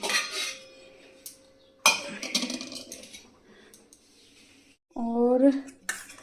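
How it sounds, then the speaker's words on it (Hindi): A metal kitchen pot is taken out for setting curd, giving sharp clinks and a ringing clatter in a few separate bursts, with quiet gaps between them. "तो सबसे पहले हम निकाल लेंगे बर्तन दही के लिए।"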